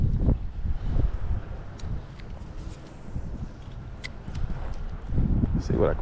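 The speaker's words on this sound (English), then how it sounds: "That wind." Wind gusting against the microphone while spring fishing, heavy low rumbling buffets that swell and fade, loudest at the start and the end, with someone talking over it.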